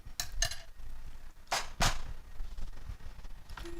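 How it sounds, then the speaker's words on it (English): Marshmallow cream and peanut butter stirred in a pot for brownie Snicker bars, a few light utensil clinks and scrapes against metal, soft and close with low room noise between. "we're going to stir in our marshmallow cream and our 1/4 cup of peanut butter"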